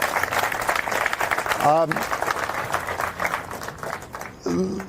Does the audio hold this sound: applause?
yes